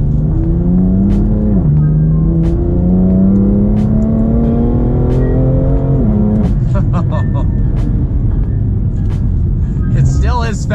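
A new BMW M2 accelerates hard, engine note climbing through gears with brief dips at shifts, loud and close, then settling into a lower cruising drone with light clicks from the cabin.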